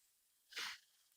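A single quick sneeze, sharp and breathy, cuts through an otherwise quiet room.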